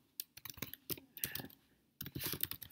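Fingers type on a computer keyboard, quick irregular bursts of close key clicks with a brief pause midway before another run of rapid tapping.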